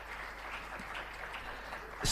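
Audience applause for a chef at a UN Tourism regional forum on gastronomy tourism in Africa, a steady, fairly quiet wash of clapping that swells louder at the very end.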